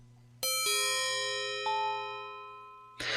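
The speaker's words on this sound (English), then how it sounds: "Maybe you should try ringing the doorbell." A chiming doorbell from the retro edutainment game Castle of Dr. Brain rings out in bright, sustained tones: a first strike, a quick second, a softer third, ringing and slowly decaying before a short burst of noise at the end.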